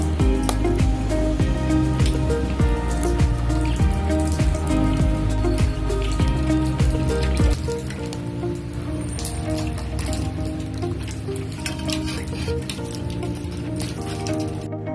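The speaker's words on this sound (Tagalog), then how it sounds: "At talaga nga namang sumabay pa tong ulan na to sa pag-iihaw namin dito." Steady rain patters and drips on a surface close by during outdoor grilling, a dense continuous wash of droplets with no voices, easing slightly partway through.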